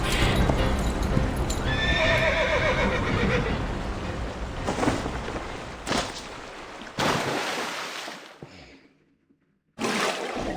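A horse whinnies with a long, wavering call near the start while hooves clip-clop steadily. Several sharp impacts and bursts follow, then a brief near-silent gap before the sound returns.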